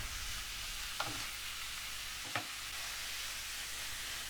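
Carrot and zucchini samosa filling sizzles softly in a frying pan, with two brief scraping stirs of a utensil breaking through the steady quiet crackle.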